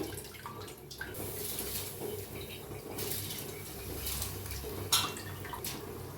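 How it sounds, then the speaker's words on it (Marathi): Washed rice goes into a pot of boiling water, giving a steady watery bubbling and splashing with a brief louder splash near the end. "आता तांदूळ स्वच्छ धुवून घेतलेला आहे आता व ह्याच्यात घालून घेऊया आपण"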